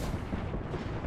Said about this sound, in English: Deploying me knuckle cluster.